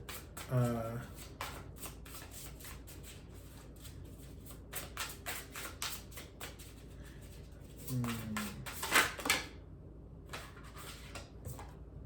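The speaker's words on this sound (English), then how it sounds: "I'm gonna pull another oracle card." Oracle cards being shuffled and pulled during a collective tarot reading. Rapid papery riffles and flicks come in bursts at the start and again near the end, with a brief voice underneath.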